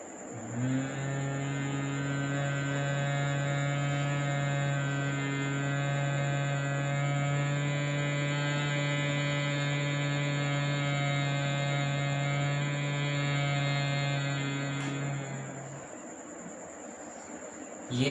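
A steady, sustained low humming tone from bhramari (humming bee breath) yoga breathing, held for about fifteen seconds, even and unbroken, then fading out.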